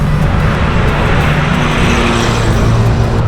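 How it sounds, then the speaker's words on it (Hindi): Light morning road traffic in Bangalore near ITPL, a loud, close, steady wash of engine and tire noise as vehicles pass, with no voices. "हल्का ट्रैफिक।"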